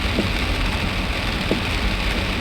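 Rain at night captured by an Anytek AT88 car dash camera, a steady dense hiss with faint scattered drops and a low rumble underneath, continuous throughout with no voices.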